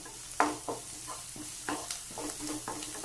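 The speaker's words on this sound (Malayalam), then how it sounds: "ഇതും നന്നായിട്ട് വഴറ്റാം." Mushroom thoran being sautéed over low heat in a non-stick pan: a soft steady sizzle broken by several sharp scraping strokes of a spoon stirring the pieces, close and alone with no voices.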